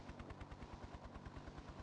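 Helicopter rotor in a video game, a steady fast rhythmic low thumping of blades running throughout at moderate level with no voices.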